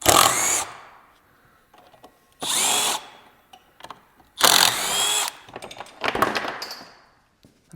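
Bursts of a power tool, most likely an impact driver or drill, taking bolts off a damaged two-piece rear rack: four loud separate runs of whirring and rattling with short quiet gaps between them, close up, and no talking.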